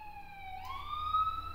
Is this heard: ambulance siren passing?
yes